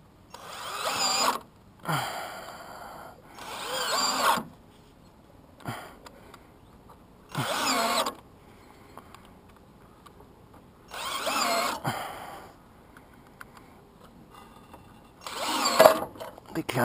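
A power drill drives a small screw into a Schletter roof hook mounted under Wienerberger Sulm roof tiles, several whirring bursts a few seconds long separated by pauses, close and fairly loud, with someone talking.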